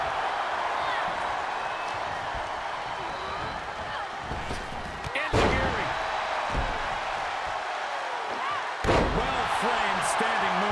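A wrestler is slammed to the mat in the WWE 2K23 video game, with two sharp heavy impacts standing out above a constant roaring arena crowd and commentary.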